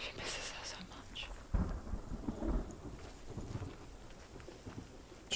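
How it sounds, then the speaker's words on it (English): A thunderstorm rolls through in Hellblade: Senua's Sacrifice. Soft, steady rain hiss runs throughout, broken by a couple of low, distant thunder rumbles, all fairly quiet. "Storm's coming again?"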